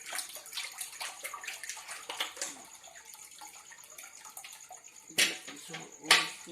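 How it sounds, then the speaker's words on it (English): Water pours and splashes through a strainer while sago is washed outdoors in Papua New Guinea, a steady wet rush with two louder splashes near the end, under people talking. "We strain it and we cut all the rubbish in this strainer."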